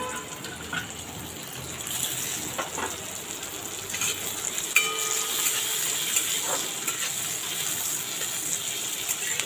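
Chopped capsicum fries in a pan, making a continuous close sizzle and hiss with scattered scraping and tapping as it is stirred.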